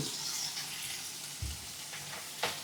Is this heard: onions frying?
yes